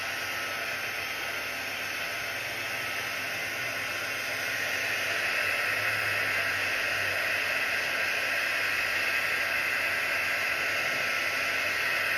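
A heat tool drying watercolour paint on a bookmark gives a steady, fairly loud airy whoosh that holds unbroken throughout, with no talk.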